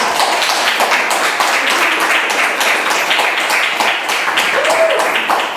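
Steady applause from an audience following a survivor-story monologue, dense, continuous clapping at close range holding evenly throughout with no voices over it.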